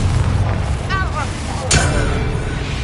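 A Confringo blasting spell explodes in Hogwarts Legacy, a sudden loud boom with a sharp burst that rumbles and fades over low background noise, following brief spell-casting sounds.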